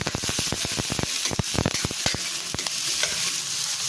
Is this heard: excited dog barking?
no